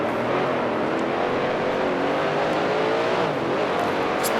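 A 1971 Can-Am race car at Atlanta in the Grand Prix Legends racing game, its engine held at full throttle in a loud, sustained, close-up roar with slight pitch shifts and no talk.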